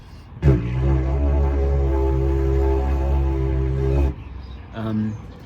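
A deep, steady didgeridoo drone with a strong low fundamental and stacked harmonics sustains for about four seconds, then a shorter, softer drone follows after a brief gap.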